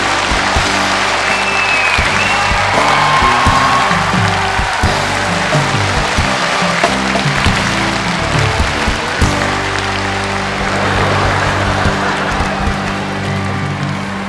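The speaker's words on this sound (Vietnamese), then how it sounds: "Kính thưa quý vị, một tràng pháo tay để đón chào nữ MC Jennifer Phạm." A large audience at a Vietnamese music show in Chicago claps steadily and loudly for a female MC taking the stage, a dense sustained wash of applause over a low musical hum.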